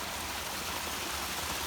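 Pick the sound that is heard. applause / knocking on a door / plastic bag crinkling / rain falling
rain falling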